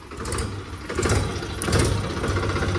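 A tractor engine idles close by, a low continuous rumble with slight surges in loudness and some clattering, mechanical texture.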